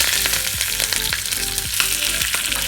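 Curry leaves crackling in hot oil alongside browned coconut for a dal pumpkin curry, a loud dense sizzle with sharp pops and spatters close up, steady throughout.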